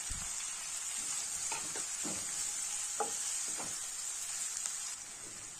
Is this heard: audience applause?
no